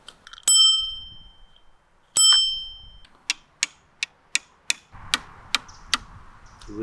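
An e-scooter's bell gives two bright rings, each with a long fade. A run of sharp, evenly spaced ticks follows close to the microphone, over a faint hum, with no voices.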